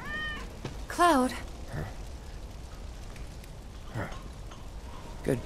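Cat meowing in the Final Fantasy 7 Remake video game, a single clear meow near the start amid light rain-like background and game ambience, with voices speaking around it.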